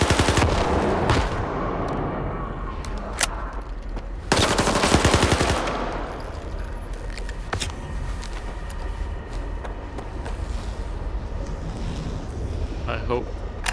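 Rapid bursts of automatic gunfire and single shots ring out in S.T.A.L.K.E.R. 2, loud and close, with a heavy burst partway through and a constant ambient rumble beneath someone talking.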